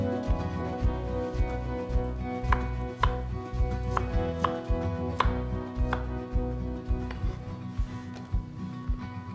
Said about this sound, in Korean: 양파, 고추, 생강, 마늘을 잘라서 볼에다 넣고 액젓을 넣고 갈 거예요